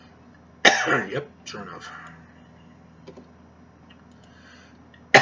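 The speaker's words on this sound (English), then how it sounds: "I'm having a coughing fit talking so much." A person coughs and clears their throat in a short burst of sharp coughs, close and loud, then quieter throat sounds, with brief talking in between.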